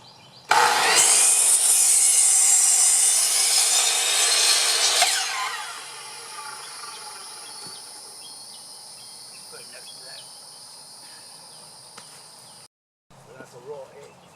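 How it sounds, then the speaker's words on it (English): A chop saw cutting wood for an outdoor table, loud with a harsh high whine for about five seconds, then a fading hum with faint scraping and outdoor insects; a person talks briefly near the end. "I'm at the back of the cutting saw"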